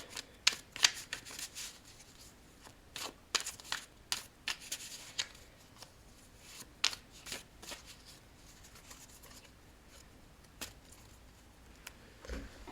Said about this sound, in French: Donc je vais tirer une carte pour chaque domaine.